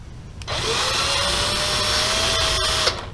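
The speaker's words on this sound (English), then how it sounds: "Now I'm pretty much just using the driver to speed up the process." Power driver whirring steadily for about two and a half seconds during an oil and filter change on a Porsche 944, close and loud, starting and stopping abruptly with a brief tonal whine throughout.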